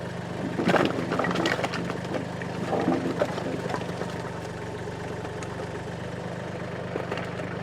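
A homestead tractor runs while being driven, giving a steady low mid-pitched engine drone with some clunks and wooden knocks early on, close and fairly loud.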